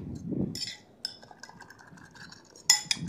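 A fork beats a spiced mixture for chicken patties in a bowl, giving a few light clinks and scrapes with a sharper clatter near the end, quiet and close.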